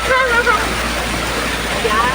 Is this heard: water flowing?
yes